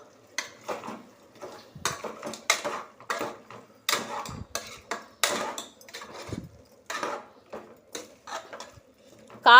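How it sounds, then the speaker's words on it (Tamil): Quail sautéed with chilli and coriander masala in a pan, a rhythmic series of close, clattering spatula scrapes and knocks against the metal over a faint sizzle. "இது கூடவே காடையவும் சேர்த்து நல்லா வதக்கி விட்டுக்குவோம்."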